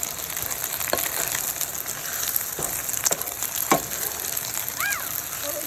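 Noodles and egg sizzling and frying in a pan for beef chow fun, a steady close crackle broken by scraping stir strokes.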